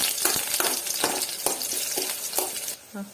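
Spatula strokes stir a pan of thakara leaf and jackfruit seed thoran with grated coconut. Rhythmic scraping and light sizzling repeat about every half second, close and steady, with no voices.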